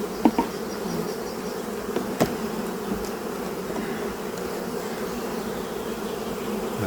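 Honeybees hum steadily around an open brood frame lifted from a hive, a dense close buzz that holds level throughout with a few faint knocks early on and no speech.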